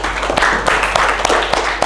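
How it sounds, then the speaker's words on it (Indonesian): Classroom audience applauding during a teaching performance test at a university in Manado, a brief burst of dense, close clapping with sharp individual claps. "beri tepuk tangan dulu dong"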